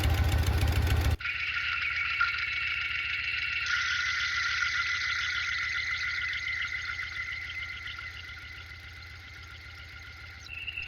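Harley Shovelhead motorcycle engine idling with a noisy rear lifter, a steady ticking mechanical clatter over a filtered hum, after a brief louder burst at the start, no talk.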